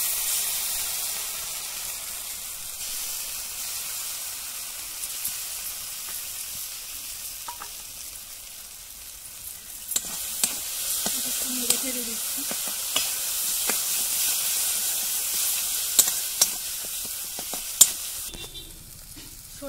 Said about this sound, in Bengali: এই সর্ষে বাটাটা আমি এবার মশলার মধ্যে দিয়ে দিচ্ছি